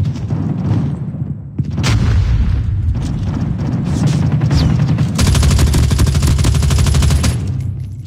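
A Semtex grenade blast amid heavy gunfire in a Call of Duty Headquarters match: deep booms and dense, continuous automatic fire roll on loudly throughout, with a harsher bright burst near the end.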